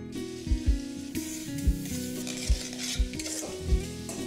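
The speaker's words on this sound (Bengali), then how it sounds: "পেঁয়াজটা যতক্ষণ ভাজা হচ্ছে" Chopped onion fries with whole cumin in hot mustard oil for ghugni, giving a continuous sizzle broken by several dull knocks of a spoon stirring against the pan.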